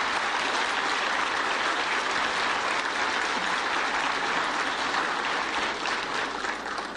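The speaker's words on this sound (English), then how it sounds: "Could we give them a special round of applause?" Audience at a panel on Afrikan-centered education giving the panelists a special round of applause: sustained, dense clapping from many hands, close and even throughout before it starts to taper at the end.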